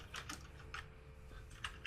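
Computer keyboard keys tapped in short irregular bursts during a tabletop role-playing session, close and fairly quiet over a low steady background hum.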